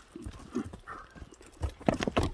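A horse named Paris walks with steady, fairly close clip-clop hoofbeats on hard ground, sounding uneven and a little irregular, with no talk over it.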